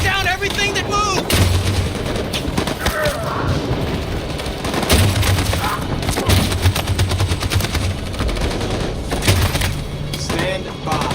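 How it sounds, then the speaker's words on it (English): Sustained machine gun fire in the Detroit: Become Human video game, loud rapid bursts with heavy booms and explosions layered through a chaotic battle scene, continuous for the whole stretch. "That machine gun is taking down everything that moves!"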